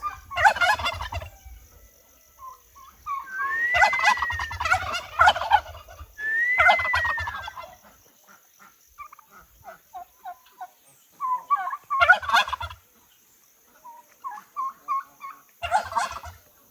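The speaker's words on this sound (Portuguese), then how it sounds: "Os perus machos estão soltos aqui embaixo, então eles já estão vindo aqui" Male turkeys gobble in repeated bursts while courting penned hens, several loud rolling calls close by with quieter clucks and pauses between them.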